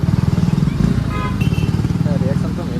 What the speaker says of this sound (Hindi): आगे वाला तीनों बाइक चल रहे हैं पूरा।